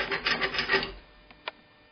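Hand file working the edges of a small metal casting, four or five quick rasping strokes followed by two faint ticks, close and quiet.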